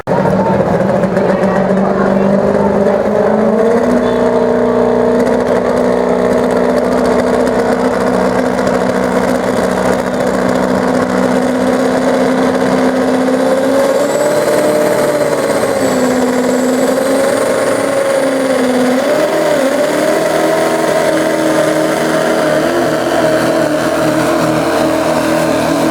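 A Duramax diesel truck at an open diesel truck pull at the Big Butler Fair roars loudly and continuously, its engine pitch rising and wavering under strain, with a public address voice faint in the mix.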